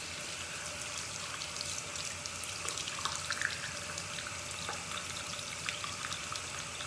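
Tap water runs steadily over a makeup brush with a soft trickling splash, a continuous close hiss with small drips and gurgles, no voices.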